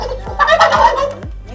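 Turkeys on a farm compound gobbling, a rapid warbling burst of several overlapping gobbles, close and loud, with low engine-like rumble underneath and no talking.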